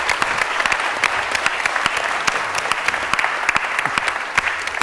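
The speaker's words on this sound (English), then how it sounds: "Can you all give Tom a round of applause?" A lecture audience applauds to welcome N. T. Wright to the stage, sustained, even clapping from a sizable crowd with crisp individual hand claps throughout.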